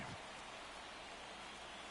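Heavy rain pours steadily over a baseball stadium during a Yankees game, a dense, even hiss of falling water with no pauses, fairly faint and distant.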